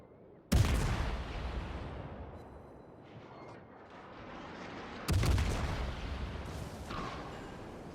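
Warship broadside salvos in World of Warships boom out twice, each a loud sudden blast that rolls into a long rumbling decay, over a steady low roar of battle ambience.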